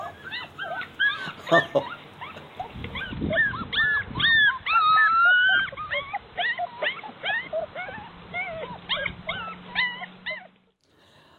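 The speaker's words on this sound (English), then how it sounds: "I thought maybe people would like to see some cute little wolf puppies" Small wolf puppies whimpering and yipping in a string of high, repeated cries, heard through a played recording, with a brief voice now and then.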